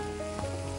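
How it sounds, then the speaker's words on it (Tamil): Small onions frying in a pan until golden, giving a brief, steady sizzle with a soft stir partway through. "வெங்காயம் பொன்னிறமா நல்லா வதங்கணும்."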